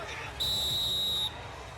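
A referee's final whistle at the 2022 NCAA men's lacrosse semifinal between Cornell and Rutgers, one sustained shrill blast of about a second over a murmuring stadium crowd.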